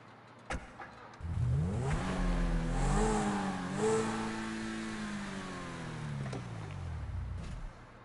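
A car engine in the GTA video game starts up and revs, climbing in pitch over a few seconds, holding a loud throaty roar, then slowly winding down. It plays alone and fairly loud.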